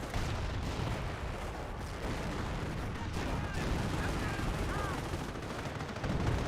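Rapid gunfire from a four-man squad in Company of Heroes, a dense continuous rattle of shots and distant blasts that stays loud and steady throughout.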